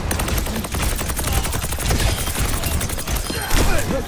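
Rapid bursts of turret gunfire from a video game, dense and continuous, with crackling shots layered over game noise.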